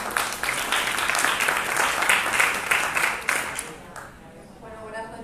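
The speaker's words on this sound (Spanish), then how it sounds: "os pido que le deis un aplauso" Audience applause at an evening talk event in Madrid, many hands clapping steadily for about four seconds before fading as a voice begins speaking.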